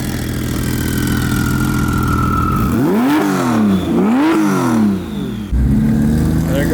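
A twin-turbo Porsche engine idles with a steady burble, then revs twice in quick rising-and-falling sweeps before settling back to idle, loud and close.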